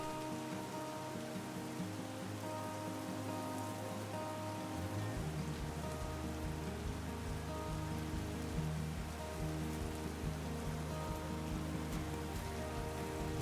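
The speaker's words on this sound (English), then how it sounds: "the rain is coming down heavier again" Rain falls steadily on a cobbled city street near a castle esplanade, a constant soft hiss of drops on stone with a low hum underneath, fairly faint and with no voices.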